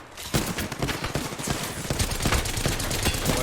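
Rapid automatic gunfire in the battle royale game Apex Legends during a competitive ALGS APAC South match, with dense, loud bursts of shots rattling almost continuously, layered with other combat noise.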